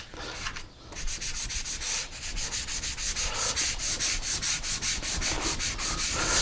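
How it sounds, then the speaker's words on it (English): Steady back-and-forth sanding of sealer on a wooden guitar body, a continuous rhythmic scratchy rubbing that stays close and fairly loud, with no talking. "This is basically going to just kind of sand this sealer smooth."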